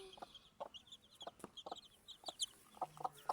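A chicken clucks in quick, soft, repeated bursts, close but quiet over low background noise.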